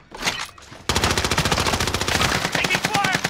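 Call of Duty gunfire: a single early burst, then sustained rapid automatic fire, loud and close, rattling on to the end.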